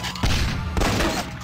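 Loud gunshots ring out in the shooter video game PlaZma Blast, a few heavy booming bursts close together, dense and forceful, with no voices over them.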